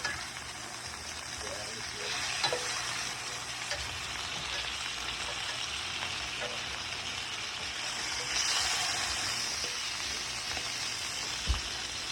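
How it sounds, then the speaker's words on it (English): Wild black duck breasts sizzle steadily in a pan while being basted, a continuous hiss with brief spoon clinks and small surges, close by, with some background voice. "continuing to baste for maybe another 10 seconds or so"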